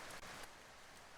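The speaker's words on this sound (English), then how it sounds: "Oh, that's nice rain." Steady rain ambience fills the space as a continuous, fairly loud wash, with a couple of brief brighter splashes near the start and no one talking.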